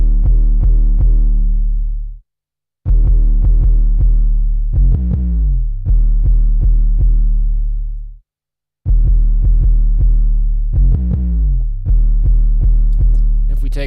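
Deep 808 bass beat run through the Fruity Wave Shaper plugin, loud booming sub-bass notes in repeating rhythmic patterns with two short silent gaps, alone without talk.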